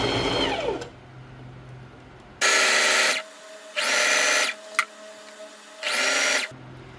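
A domestic sewing machine zigzag-stitches a plus-size swimsuit fabric, with loud close bursts of fast needle whirring: three long runs and one short one separated by quiet pauses, after a brief softer run at the start.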